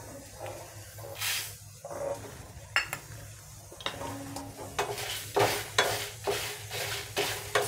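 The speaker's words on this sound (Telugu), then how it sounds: "చూడండి, అన్నీ వేయించుకున్నాం కదా." White sesame seeds roasting in a pan, with a soft steady hiss and repeated scraping strokes of stirring that grow more frequent toward the end, close and alone without talk.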